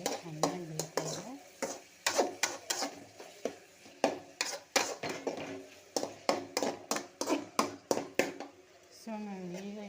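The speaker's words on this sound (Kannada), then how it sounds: "ಎಣ್ಣೆಯಲ್ಲಿ ಇದಾಗ್ತಾ ಇದೆ, ಚೆನ್ನಾಗಿ ಬೇಯ್ತಾ ಇದೆ." A bread and vegetable snack frying in oil over a low flame, with a soft, continuous sizzle broken by repeated rhythmic scraping and stirring strokes, while a person talks quietly throughout.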